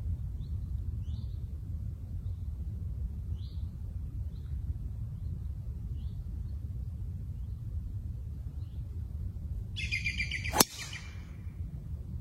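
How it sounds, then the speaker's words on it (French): Small birds chirp on a golf course, giving short, faint, evenly spaced calls over a steady low outdoor rumble. A single sharp impact cracks out near the end. "Merci l'oiseau, mais ça m'a pas gêné."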